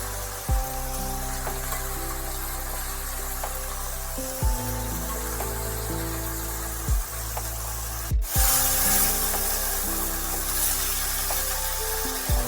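Boiled cauliflower stalks, radish and potato tipped into a hot pan, a steady hiss of frying broken by a few soft thumps and a brief burst of louder sizzle as the vegetables land.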